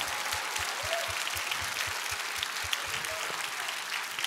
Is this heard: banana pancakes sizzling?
no